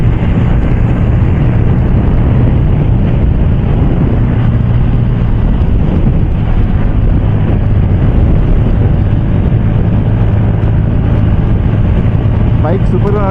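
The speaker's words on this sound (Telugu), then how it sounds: "బైక్ సూపర్గా నడుపుతుంది కదా ఫ్రెండ్స్" Bajaj Pulsar N160 motorcycle on an evening ride, a steady engine drone mixed with heavy wind rush across the microphone, continuous and loud.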